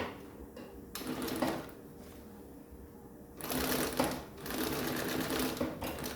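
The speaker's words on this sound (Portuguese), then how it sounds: "eu primeiro dou uma costurinha de travamento" A sewing machine runs two bursts of a short locking stitch on a small bag, a rapid mechanical whir with a pause between, close and fairly clear with no talk.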